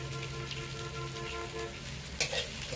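Green peas with chopped chilli and a pinch of salt fry in a kadai, giving a steady close sizzle over a low hum, with a short clatter near the end.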